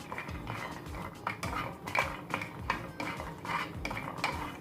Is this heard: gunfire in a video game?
no